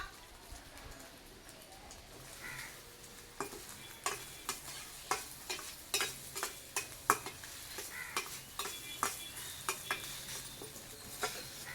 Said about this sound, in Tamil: முட்டை வறுத்தாச்சு